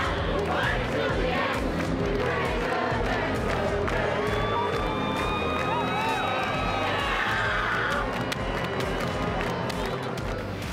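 A large football crowd at the Sydney Derby roars and chants continuously, with shouted voices and whistles rising through the middle, loud and dense throughout.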